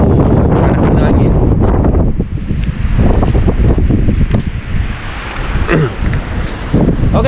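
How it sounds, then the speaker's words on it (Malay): Strong stormy wind outdoors on a morning shellfish hunt: heavy buffeting gusts batter the microphone almost continuously, roaring loud with brief dips between blasts. "Memang sangat ribut."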